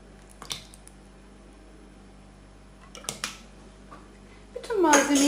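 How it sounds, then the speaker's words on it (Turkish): Pide dough made with warm milk, water and oil is kneaded by hand, with soft squishing pats in a few short bursts over low room hum before a longer, louder stretch at the end. "ilave ettikten sonra hamurumuzu yoğurmaya başlayalım"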